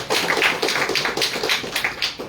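An audience at an official launch ceremony for a national action plan applauds the Minister of the Interior, a steady, close patter of many hands clapping for a couple of seconds with no talking.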